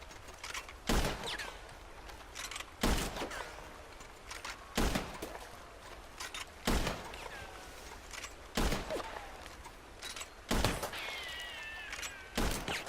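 Gunfire rings out in Red Dead Redemption 2 during run-and-gun play: loud single shots roughly every two seconds with short echoing tails, over a steady background of game ambience.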